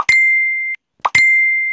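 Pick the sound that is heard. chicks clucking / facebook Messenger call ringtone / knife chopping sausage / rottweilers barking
facebook Messenger call ringtone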